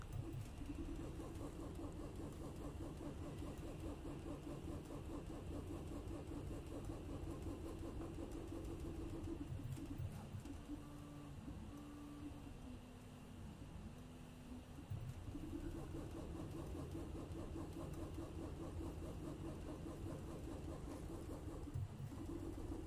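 A Prusa i3 MK3 3D printer runs at extreme speed with very aggressive acceleration, producing a faint, steady motor hum whose tones shift and wobble as the moves change, with no talk.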